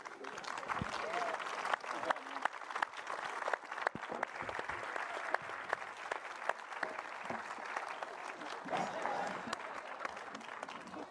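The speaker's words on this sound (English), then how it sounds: "Let's do another round of applause for everyone." An audience claps in a sustained round of applause at an event about a NASA Moon mission, dense clapping that holds steady for about eleven seconds, with some voices beneath it.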